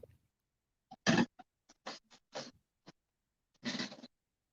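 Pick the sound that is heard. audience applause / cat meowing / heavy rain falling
cat meowing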